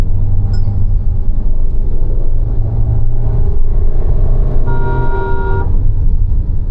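A Mahindra XUV700 AX7L diesel SUV pulls hard under acceleration, its steady low engine drone climbing toward a gear shift, with a brief horn-like tonal burst near the end; loud and close, no talk.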